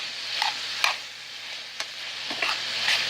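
Chopped sweet onion fries with ground turkey in a hot pan, giving a continuous bright sizzle close up, with a few soft scraping stirs and light pops scattered across the few seconds, no voices.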